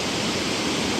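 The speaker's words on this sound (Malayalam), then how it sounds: "താഴെ നല്ലൊരു വെള്ളച്ചാട്ടം തന്നെ കേട്ടോ." A waterfall below roars as a dense, unbroken rush of water filling the whole moment, loud and steady with no other sounds standing out.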